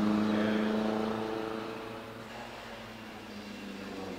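Vintage GN car with a touring body and four-cylinder Anzani engine at a hill climb, a faint engine note rising and then receding into the distance, heard briefly without talk.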